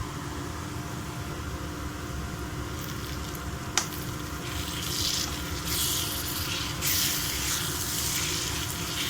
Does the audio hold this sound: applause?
no